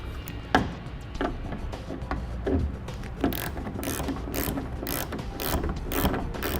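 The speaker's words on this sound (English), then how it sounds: "go ahead and torque down your middle brackets" A ratchet clicks rapidly and repeatedly, tightening the middle brackets of base rails for a sliding truck bed ladder rack, close-up with metallic ticking in bursts.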